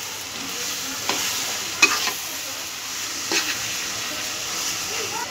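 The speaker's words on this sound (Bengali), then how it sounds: "অর্ধেক দিয়ে তেলে আমি সুন্দর করে একটু ভেজে নিই" Half the tamarind fries in oil with garlic, giving a steady soft sizzle with a few brief scraping stirs of a spatula scattered through it.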